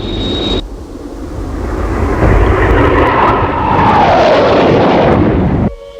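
A MiG jet aircraft engine in a 1960s puppet adventure series roars up to a loud, steady, full-bodied thrust with a falling whine layered over it, then cuts off abruptly.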